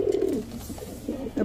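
Pigeons from a rare breeding pair kept in a home loft coo in repeated low, throaty bursts, close by and fairly loud with no talking.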